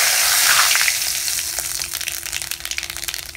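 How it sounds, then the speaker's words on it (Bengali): Black cumin seeds sizzle loudly in hot oil left over from frying pomfret, a steady crackling hiss that breaks into sharper pops toward the end, close up with no talking. "এবার ওই মাছ ভাজার তেলের মধ্যে আমি কালো জিরো ফোড়ন দিয়ে দিচ্ছি।"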